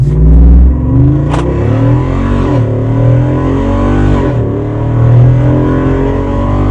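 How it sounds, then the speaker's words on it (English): A 2024 Jeep Rubicon 392 Final Edition engine revs hard and roars loudly as it accelerates from 0 to 60, the pitch climbing through several gear shifts, close and continuous for several seconds. "we're going to get a chance to get a 0 to 60 in right now"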